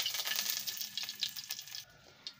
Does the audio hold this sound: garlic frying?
yes